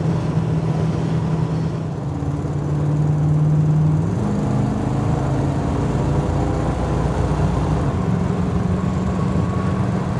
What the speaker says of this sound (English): It runs like a 289 A-code 4-barrel fresh motor should run.